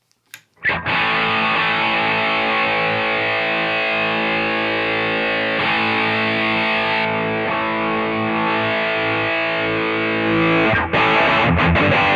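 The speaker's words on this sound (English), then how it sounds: "let's see a Darktail that's based on the Proco Rat." An electric guitar plays through the Valeton GP-50's Darktail distortion, modelled on the Pro Co Rat, with a brief pick at the start and then a long, loud, sustained fuzzy chord with a few changes, no voices.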